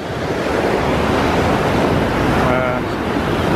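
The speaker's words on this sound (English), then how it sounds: "Here comes the waves." Waves rolling through the Mandalay Bay wave pool in Las Vegas, a continuous broad rushing wash of water close by with wind noise, filling the whole stretch.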